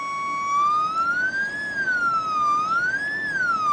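A DZ7 coil on a charger in a simple circuit gives a steady electronic whistle, a clear tone that slowly rises and falls in pitch like a wavering siren. It plays alone at moderate loudness throughout.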